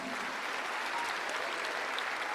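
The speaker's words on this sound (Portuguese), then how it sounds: "Vamos aplaudir esse pessoal que está aqui?" A church congregation at a worship service applauds together, a full, even roar of clapping that stays steady and fairly loud throughout, with no voices on top.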